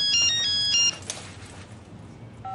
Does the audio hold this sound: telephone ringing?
yes